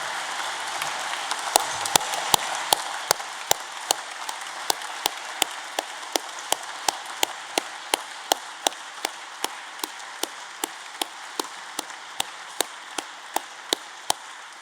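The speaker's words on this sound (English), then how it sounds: "The applause you've heard this evening from all 220 people in this great hall" About 220 guests at a Royal Engineers awards evening in a great hall clap in slow, steady unison, each sharp beat regular and distinct over a soft background hum of the crowd.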